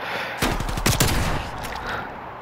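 Rapid bursts of video game gunfire fill a match between two players, with sharp clustered shots opening around the half-second mark and loud repeated cracks continuing for a couple of seconds before tailing off.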